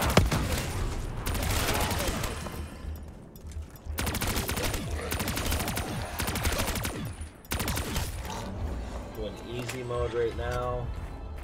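The Death Machine minigun fires in Call of Duty Black Ops Zombies on the Ascension map, long unbroken bursts of rapid shots separated by brief gaps, loud and close, with someone talking over the firing.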